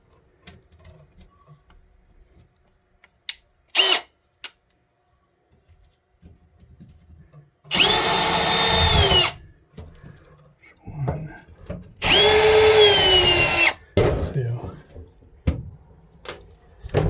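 A power drill whirs in two loud bursts of about two seconds each, ramping down at the end of each, as screws are removed from interior fittings, with scattered clunks and brief talk between.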